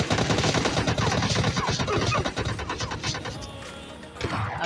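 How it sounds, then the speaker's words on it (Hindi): Gunfire in PUBG Lite gameplay, with rapid bursts of automatic shots in dense overlapping volleys, loud and continuous before easing briefly, then more shots at the end; no voices. "नीचे से गन शॉट्स की आवाज़ आती है"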